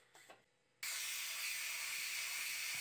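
A few faint clicks, then a loud, sharp hiss of escaping steam bursts from a pressure cooker and continues steadily at close range.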